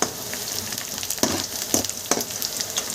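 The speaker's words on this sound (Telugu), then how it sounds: "చూసారు కదండి ఆనియన్స్ అంత చక్కగా సౌండ్ వస్తున్నాయో వేగుతున్నాయి" Chopped onions fry in hot oil with a steady close sizzle, broken by a few sharp crackles and stirring scrapes; no talking.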